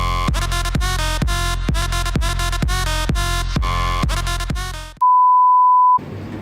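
A mobile phone rings loudly in a courtroom, a repeating electronic ringtone melody pulsing steadily for about five seconds, then a single sustained beep tone before it cuts off.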